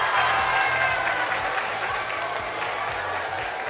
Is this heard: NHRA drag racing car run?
no